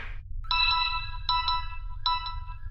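A mobile phone left lying somewhere plays an electronic ringtone of bright chiming tones. The tones repeat in three short bursts over a low steady hum, with no voices.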